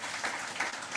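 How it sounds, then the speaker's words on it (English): Audience applause at a business community event in Birmingham, a brief, even wash of clapping from many people, moderately quiet and steady throughout. "I think that deserves a round of applause"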